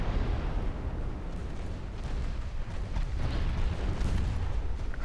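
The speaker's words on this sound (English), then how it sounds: "Hatsuharu took a torp, or that's just a flooding hit" A deep rumbling blast rolls on as a torpedo strikes a ship in the naval game Ultimate Admiral Dreadnoughts. It is heavy and sustained, with layered low booms and no voices.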